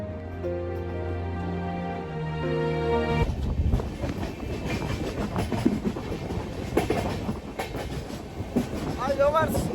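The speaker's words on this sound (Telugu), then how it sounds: "ఇక్కడ నుంచి మళ్ళీ మనం కాట్రా వెళ్తుంది ట్రైన్," Express passenger train pulling out of a station in Jammu bound for Katra, a steady rolling rumble with clickety-clack of wagons building after a low sustained tone at the start, loud and close throughout.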